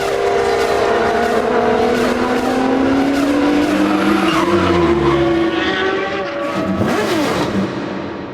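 Open-wheel A1 Grand Prix race cars roar off the start together in a loud, rising engine chorus, with tyres squealing and skidding as the pack accelerates away, a sustained howl that dips slightly near the end.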